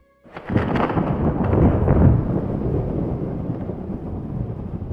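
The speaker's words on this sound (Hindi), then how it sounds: "दूर फिर से बादल गरजते हैं।" Thunder rolls in with a sudden onset and keeps up a deep, sustained rumble that swells and slowly eases, heard alone with a windy, rain-like wash.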